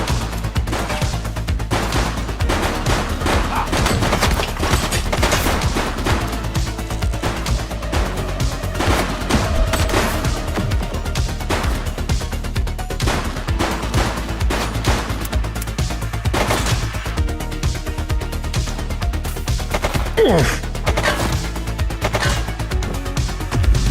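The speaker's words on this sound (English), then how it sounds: "Shots fired!" Continuous gunfire and crashing action in the video game The Precinct, a dense, loud barrage of shots and impacts over a steady soundtrack that runs without letup for the whole stretch.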